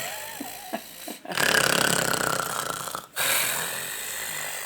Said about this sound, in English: I'm recording you snoring.